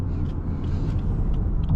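A 2019 Lexus UX 200 with a CVT pulls away under acceleration, its engine giving a steady low droning hum heard from inside the cabin with faint road rumble, no voices.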